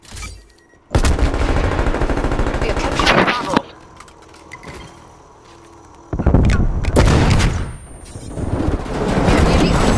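Sustained bursts of automatic gunfire from Call of Duty Black Ops Cold War rattle loudly in two long stretches, with a brief quieter gap between them.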